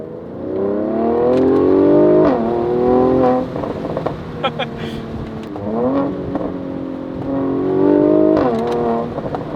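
A Mercedes-AMG C43 Cabriolet engine revs loudly and close, rising and falling through several downshifts, with sharp pops between pulls.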